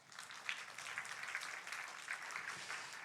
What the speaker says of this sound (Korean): 우리 위로의 박수 하십시다.